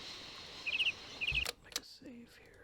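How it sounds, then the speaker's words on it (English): Short repeated bird chirps in the PC video game Syberia, two quick trills under a quiet ambient background, followed by soft clicks and a brief low tone. "Once again, I apologize that the birds are kind of loud."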